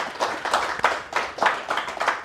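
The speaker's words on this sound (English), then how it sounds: "So just give him a warm applause." An audience claps a warm welcome for a guest at an arts talk. Dense, close applause surges in uneven waves throughout, with no voices.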